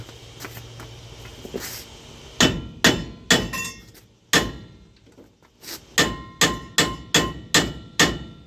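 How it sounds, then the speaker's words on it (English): A hammer strikes a seized, frozen-on brake rotor about ten times, sharp metallic clangs that start spaced apart and then come in a quick, regular run near the end, close and loud with no talk. "Give it a little whack with the hammer."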